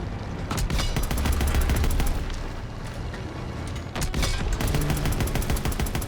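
Rapid bursts of automatic gunfire and sharp single shots from a Call of Duty campaign mission crackle close and loud, with short pauses and dense volleys overlapping in quick succession.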